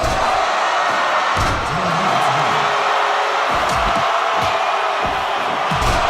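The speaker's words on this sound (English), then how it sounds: "This crowd is getting loud." A loud, continuous crowd roar from a wrestling arena in Fire Pro Wrestling World, with cheers swelling throughout and occasional sharp thuds cutting through.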